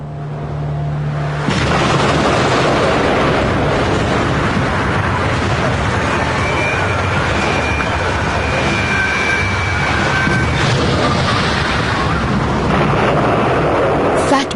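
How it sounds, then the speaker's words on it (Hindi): The Fat Man atomic bomb detonates over Nagasaki in 1945. A loud, sustained broadband roar begins after a short quieter lead-in and rumbles on steadily to the end. "फैटमैन में विस्फोट हुआ"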